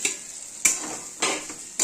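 Potatoes with cumin, coriander and Kashmiri chilli powders being stirred in a pan for chana dal, soft sizzling broken by a few sharp scraping strokes of the spoon, quiet and close.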